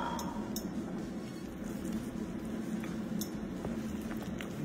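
A utensil scrapes and clinks against a bowl while flour is vigorously mixed into dough for Neapolitan fried zeppole, a steady, busy kitchen sound with occasional sharp taps.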